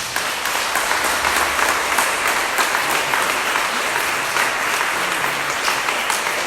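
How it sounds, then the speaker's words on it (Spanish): A church congregation applauds together at a Holy Spirit life seminar, the clapping dense and continuous at an even volume with a few voices faintly underneath. "Vamos a darle un fuerte aplauso al Señor."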